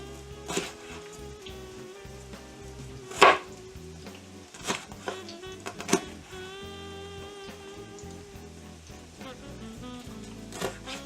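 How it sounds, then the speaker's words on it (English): A knife slices food on a cutting board for a cheesesteak sandwich, several sharp separate chops spaced over a quiet kitchen background with faint sizzling. "I'll cut some slices here."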